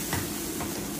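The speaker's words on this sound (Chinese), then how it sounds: "鹅肉炖的差不多了，好了，我给它放上酸菜，" Sauerkraut goes into goose stewing in an iron pot, giving a soft stirring and sizzling hiss with a couple of brief bursts close by and no talking.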